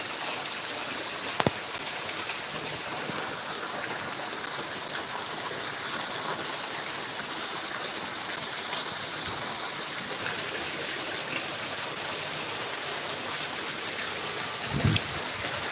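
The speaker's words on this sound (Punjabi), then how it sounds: "ਪੂਰੇ ਜ਼ੋਰਦਾਰ ਮੀਂਹ ਪੈ ਰਿਹਾ ਹੈ" Heavy rain pours down steadily in a Punjab village during hot weather, a dense continuous hiss with no breaks, with one sharp knock early on and a brief thud near the end.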